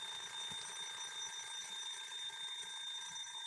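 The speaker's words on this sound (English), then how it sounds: "That's the kitchen timer. It won't shut up." A kitchen timer rings continuously as a steady, bright electronic alarm tone, fairly faint and unbroken, with no talking over it.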